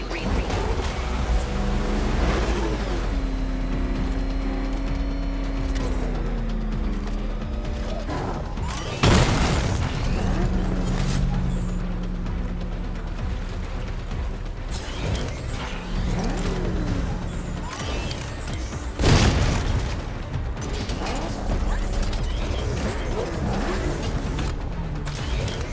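The Batmobile races fast in Batman: Arkham Knight during a Riddler race, its engine droning low and steady under shifting mechanical whines, with two sharp loud booms or impacts punctuating the run.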